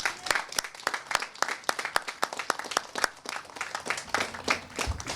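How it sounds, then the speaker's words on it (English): Students clap together in a crowd at a school ribbon-cutting ceremony, giving steady dense applause with sharp individual claps standing out throughout. "give yourselves a round of applause"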